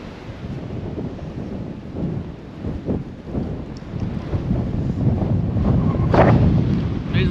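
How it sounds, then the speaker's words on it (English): Strong wind blows outdoors, buffeting the microphone in loud, rumbling gusts that rise and fall and build toward the end, with no voices. "It's windy today."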